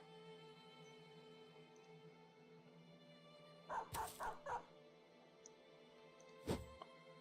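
Dog barking in the video game Battle Brothers, a quick run of four barks followed by one more bark a few seconds later over a faint steady hum.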